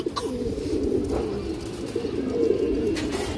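A pure green-necked female pigeon coos in a steady, low, droning rumble that carries through the whole stretch, close and moderately loud, with faint background noise.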